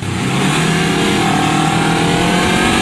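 Honda CBR 250RR motorcycle engine revving hard on the first throttle, a loud, close, sustained high-pitched roar without pauses.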